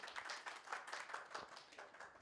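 Audience applause at an Urdu mushaira poetry gathering, a dense, steady patter of many hands clapping at moderate distance, fairly quiet and continuous throughout without pauses.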